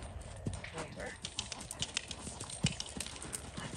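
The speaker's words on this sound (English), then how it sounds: "ask him with your left leg to canter" A gaited Spotted Saddle Horse moves in a riding lesson, its hooves thudding in an uneven series of soft beats across the whole stretch, moderately close and fairly quiet against outdoor background noise.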